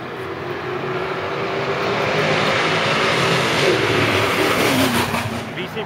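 Street-racing cars roar under hard acceleration in a $100 B,C Performance versus Road Runners run, a loud, sustained engine howl that swells and holds steady for several seconds without a break.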